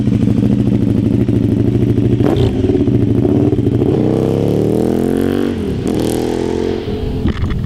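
A 2017 KTM Duke R 690 single-cylinder motorcycle revs loudly and close by, its engine note climbing and dropping through several throttle blips over a constant, gruff mechanical roar.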